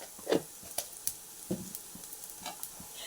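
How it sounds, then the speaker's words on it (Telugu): Split black lentils and cumin seeds frying in a spoonful of oil for a fenugreek-leaf chutney, giving soft sizzling with sparse crackles and a few stirring scrapes, close and fairly quiet. "ఇవి కొంచెం వేగుతూ ఉన్నప్పుడు కొంచెం జీలకర్ర ఒక స్పూను జీలకర్ర"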